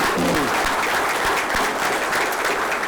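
Loud, dense applause from an audience at a business breakfast event fills the whole stretch, with many hands clapping steadily close by.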